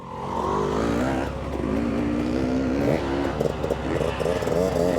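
A Kawasaki KLX 300 dirt bike rides off-road trails with a steady engine drone and shifting revs, up close and continuous, alongside other riders' bikes.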